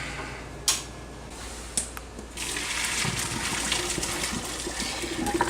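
A couple of clanks, then boiled gnocchi water pours and gushes steadily through a strainer, close and continuous, with no voices.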